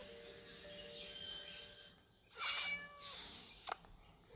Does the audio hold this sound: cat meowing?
yes